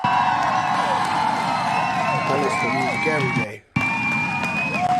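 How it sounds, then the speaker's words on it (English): A crowd cheers and claps for 50 years of hip-hop, a loud wash of whoops and applause with voices rising through it and a brief dropout partway before the noise resumes. "Let's get a round of applause for 50 years of hip-hop."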